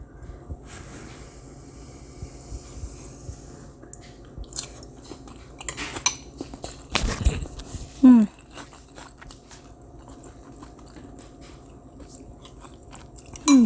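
Chewing salmon in tomato sauce with crunchy onion, close up, with a few bites and crunches over quiet background noise, building to louder chewing near the end.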